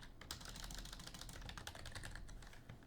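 Rapid typing on a computer keyboard while entering text into a design tool, a steady stream of close, light key clicks with no talking.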